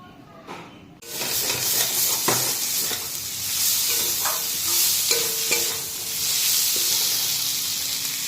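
Prawns hit hot oil in a home kitchen pan and break into a loud steady sizzle, with scraping stir strokes and clinks over the hiss.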